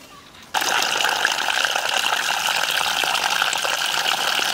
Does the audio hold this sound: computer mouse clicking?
no